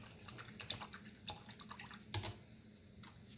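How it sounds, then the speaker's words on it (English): Paintbrush rinsed in a water jar during acrylic painting, soft faint splashes and drips in short irregular bursts, close and quiet, with no talking. "I'm going to rinse that brush out now."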